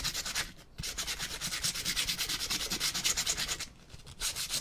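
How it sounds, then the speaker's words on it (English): Wood being sanded by hand with 100 grit sandpaper makes a rhythmic, steady back-and-forth rasping scrape, close and continuous with brief pauses between strokes. "Is there a heavier grit sandpaper over there?"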